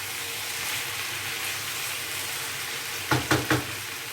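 Green spiced masala for a winter potato curry fries softly in oil, giving a low, steady sizzle, then three quick metallic clanks of a spoon against the pan near the end.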